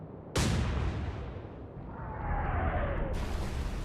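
A deck gun fires in the naval war game Atlantic Fleet, a sudden loud boom that rolls into a long rumbling tail, followed by a whistling shell sound and then a second sharp report near the end.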